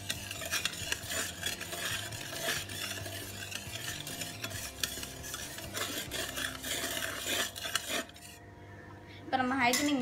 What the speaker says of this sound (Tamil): இப்போ இதை வந்து நம்ம மிக்ஸ் பண்ணணும்.